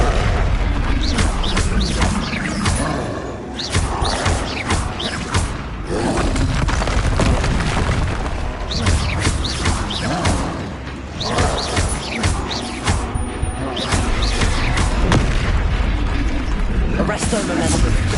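Repeated booming blasts of the Confringo spell in Hogwarts Legacy, dense crashing explosions and mechanical effects rolling on continuously with game music and voices mixed in.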